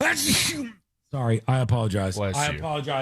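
A single loud, breathy sneeze bursts out close to the microphone, followed by a brief silence and then someone speaking apologetically.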